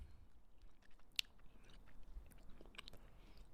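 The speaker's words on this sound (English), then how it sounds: "now I'm just chewing" Someone is chewing an edible close to the microphone, with faint, irregular wet mouth sounds and a brief sharp click, and no talking.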